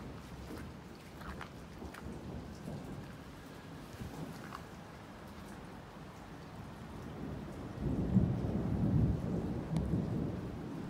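A Christmas thunderstorm pours steady rain with a low rolling rumble of thunder building toward the end, heard outdoors with no one talking.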